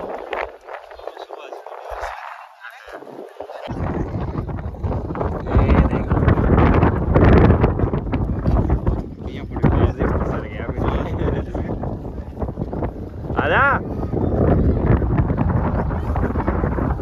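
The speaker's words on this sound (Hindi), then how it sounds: "हवा चली एक नंबर।" Strong gusts of wind buffet the microphone outdoors at the Veer Hanuman temple in Samod, near a ropeway, as a loud, continuous roar that rises and falls. People appear to be talking beneath it.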